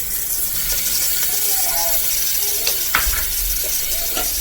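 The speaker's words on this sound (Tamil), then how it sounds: "நல்லா வதக்கிக்கலாம்." Spinach sizzling and hissing in a pan with garlic, turmeric and asafoetida, a steady frying crackle with a few sharp stirring clicks and scrapes near the end.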